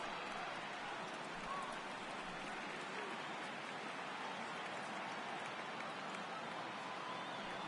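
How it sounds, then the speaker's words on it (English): Steady rain falls across a baseball stadium in a video game, a broad, even hiss of drops that carries on without a break, faint and far back. "Yeah, the rain starting to intensify here."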